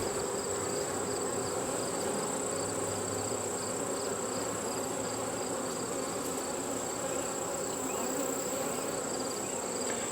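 Honeybees swarm around storm-damaged hives, a dense, steady buzzing hum close by that fills the whole stretch without letup, no speech.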